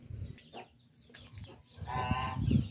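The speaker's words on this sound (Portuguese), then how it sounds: "O galo." A rooster and hens on a backyard plot with orchids cluck in scattered short calls, then a louder, longer crowing-like call rises near the end, moderately close with faint background ambience.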